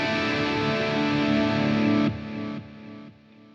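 A TC Electronic TC2290P digital delay with sine-wave modulation on a sustained tone. The repeats fade out in distinct steps as the signal is cut, and no one speaks.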